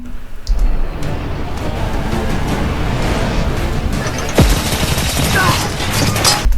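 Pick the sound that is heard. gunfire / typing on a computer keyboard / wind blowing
gunfire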